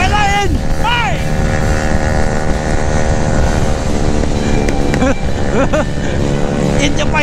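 A Suzuki GSX-S750 motorcycle rides at speed with a loud, droning engine and heavy wind rush. Its revs rise and fall in sweeping tones, and some sharp crackles come through near the end.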